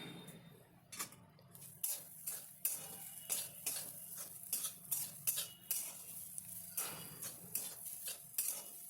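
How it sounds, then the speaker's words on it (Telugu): A spoon stirs coconut curry seasoned with chilli powder and salt in a pan, scraping and knocking against the metal in quick irregular strokes over a low sizzle, close and fairly quiet, with no voices. "కారం పొడి వేసిన తర్వాత ఒకసారి మంచిగా కలుపుకోవాలి."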